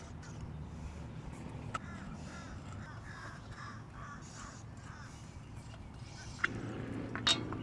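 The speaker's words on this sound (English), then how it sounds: "Those birds are going crazy because the sun's setting." Birds calling and cawing from a distance over a steady low rumble, with a few sharper clicks and bumps near the end.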